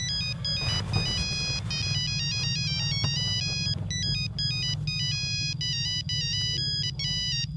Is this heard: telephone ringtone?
yes